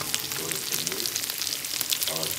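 Vendace fish fry in a pan with a dense, steady sizzle and crackle of hot oil, close up and moderately quiet, the spitting continuing unbroken throughout.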